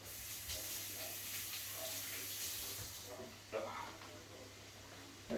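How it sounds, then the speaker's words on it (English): Tap water runs steadily into a sink as hands are washed, a constant broadband hiss lasting the whole stretch with a few small splashes and knocks near the end. "wash hands."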